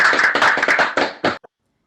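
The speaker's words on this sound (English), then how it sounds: "Can we get one last round of applause?" A small audience applauds after a young composer's piece at a concert, a close burst of quick rhythmic clapping that thins out and stops abruptly, ending with one or two stray claps.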